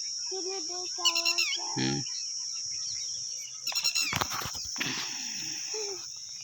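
A peacock on a farm calls in loud, nasal honking bursts, a few short cries spread over several seconds, with a steady high insect or electrical whine running behind and some faint voices.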